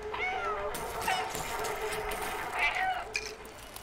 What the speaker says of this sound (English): press B to meow